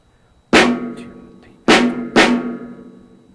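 A drum set plays rhythm pattern number 10: three loud, sharp crash-and-drum hits ring out nearby and alone, the first near the start and the other two closer together later, each one decaying slowly with a faint, quieter tap in between.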